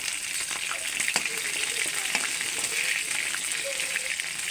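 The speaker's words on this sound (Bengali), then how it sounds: "চিকেন স্যাটেগুলো সুন্দর করে ভেজে নিচ্ছি।" Chicken satay skewers fry in a pan with a steady, dense sizzle and faint crackles, close up and continuous, with no voices over it.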